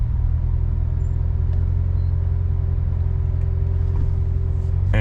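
A Corvette C7 Z06 with the Z07 package rumbles steadily at low RPM while driving, a deep, continuous engine drone sitting close and loud throughout with no talking.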